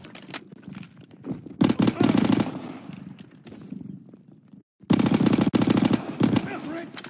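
Bursts of automatic gunfire and rifle shots from the Call of Duty: World War 2 campaign, loud and close, coming in heavy rattling volleys separated by quieter gaps with game noise between them.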